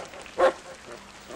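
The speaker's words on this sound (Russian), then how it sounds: "сейчас собаку пущу" A dog gives a single short bark, brief and moderately near, followed by quiet room tone.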